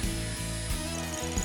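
Wood being shaped and smoothed for wooden sandals gives a steady mechanical whir with rhythmic pulses roughly every third of a second, loud and close, with no talking.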